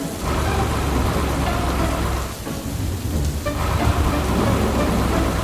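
Heavy rain pours steadily through a dark, wet forest in a cartoon, with rolling thunder rumbling underneath throughout, a dense, loud wash of sound with no voices.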